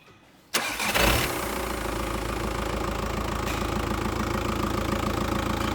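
A VW Caddy van with a BKD diesel engine cranks briefly and catches, then settles into a steady, loud, close diesel idle with a rhythmic clatter that runs to the end.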